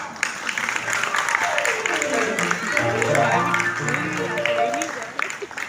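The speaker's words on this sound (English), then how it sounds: "So let's cheer the little ones with a big round of applause." Applause from parents and children at a school thematic assembly, a broad steady clatter of clapping with crowd noise and voices mixed in, and a tonal chant or singing rising beneath it.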